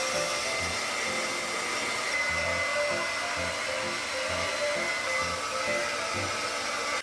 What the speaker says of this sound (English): I'm gonna use this dryer.